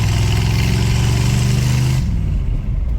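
A 1981 Chrysler Cordoba with a 360 V8 runs loud on the interstate, a steady low rumbling drone that drops off partway through into a quieter engine hum.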